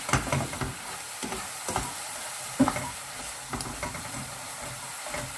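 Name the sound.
teriyaki chicken mixture being stirred in pan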